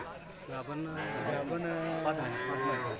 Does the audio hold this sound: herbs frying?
no